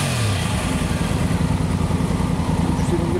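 A three-cylinder motorcycle engine running steadily up close, a loud, rough, rumbling idle with a pulsing low throb and no talk over it.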